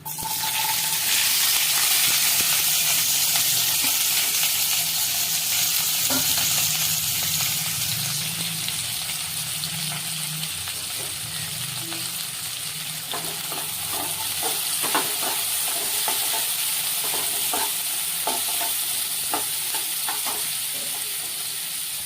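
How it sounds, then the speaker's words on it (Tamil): Small onions sizzle and fry in hot oil in a pan for a chicken dish, a loud steady hiss close by, with scattered scraping taps of a spoon stirring through the second half. "இப்போ சின்ன வெங்காயம் சேர்த்துக்கலாம்."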